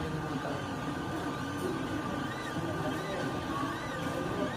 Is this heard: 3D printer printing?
yes